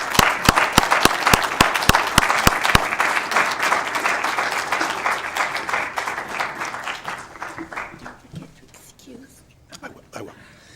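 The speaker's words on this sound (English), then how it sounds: "let's give them a big round of applause" Applause at a city council meeting: sharp individual claps up close at first, over a broad crowd of clapping that gradually fades out, leaving quiet room sounds and murmured voices.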